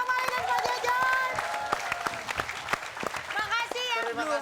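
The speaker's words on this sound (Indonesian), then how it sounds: "tepuk tangan untuk Pak Balon, Pak Mali, dan Pak Jajan." Audience applause on an Indonesian comedy variety stage show, sustained clapping with sharp individual claps mixed with loud overlapping talk and laughter throughout.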